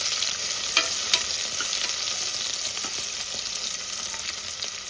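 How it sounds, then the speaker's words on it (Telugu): Onions frying in hot oil with mustard seeds and curry leaves for a kandhula curry, giving a steady, soft sizzle with a few brief louder pops and crackles. "ఆనియన్స్ కొద్దిగా రంగు మారేంత వరకు మనము వేయించుకోవాలి."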